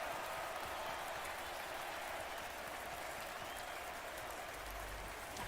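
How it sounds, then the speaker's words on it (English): A Nashville stadium crowd at a Bills at Titans Monday Night Football game applauds and chants in a steady, distant wash of noise that holds evenly throughout. "the crowd here in Nashville is chanting for Taylor."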